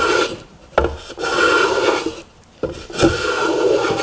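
A Japanese hand plane (kanna) shaves down a raised edge on a small wooden step, giving long rasping strokes separated by sharp catches and short pauses, close and loud with no talking.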